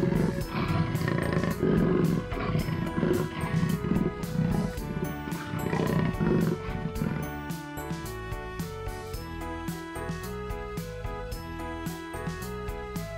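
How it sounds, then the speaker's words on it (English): A jaguar roars in deep, rumbling growls, strongest in the first half, blended with dense background music that continues steadily to the end. "Jaguar."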